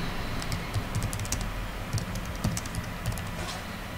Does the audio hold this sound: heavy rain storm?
no